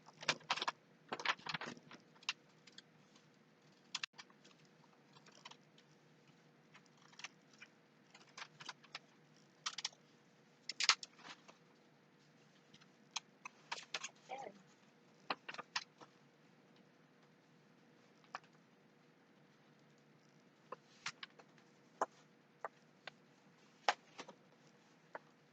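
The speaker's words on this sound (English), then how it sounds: "Just scoring the page again so it lays" Paper is scored and cut with a blade against a book edge while making a pocket journal, giving sparse faint scratches and clicks in irregular bursts over a quiet room hum.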